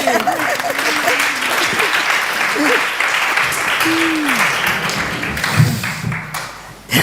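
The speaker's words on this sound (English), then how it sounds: "Applaud yourselves." A crowd applauds loudly and continuously at a translation festival event in Berlin, with voices calling out over the clapping and a brief thump near the end.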